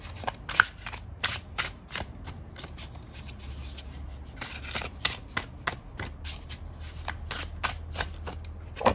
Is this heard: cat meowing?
no